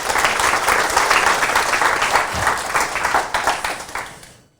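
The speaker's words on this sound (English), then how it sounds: "big round of applause for Peter and Janos" Meetup audience at a London accessibility gathering breaking into a full round of applause, dense steady clapping that holds for several seconds and then fades out at the end.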